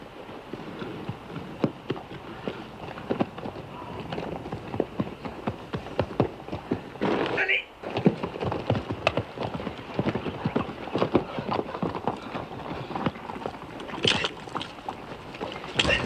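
Horses galloping in a western film, dense clip-clopping hooves running continuously and fairly close, with creaks and brief bursts of noise mixed in.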